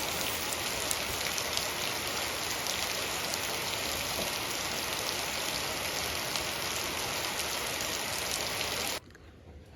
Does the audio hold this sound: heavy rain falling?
yes